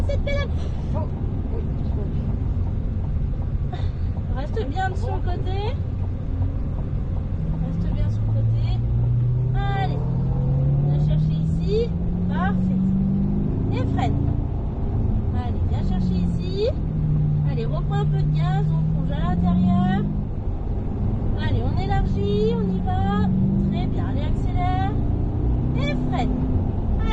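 A car on a driving-course track at Mettet brakes and accelerates, its engine note sweeping down and up in long rising and falling runs, with an instructor talking steadily throughout.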